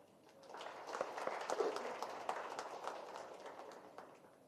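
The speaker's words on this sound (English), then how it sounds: "Can we not give him big applause?" Conference audience applauding: a dense, sustained patter of clapping that swells and holds at moderate loudness across the whole stretch, with no voices.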